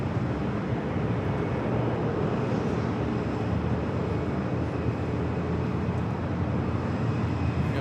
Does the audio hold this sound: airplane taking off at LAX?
yes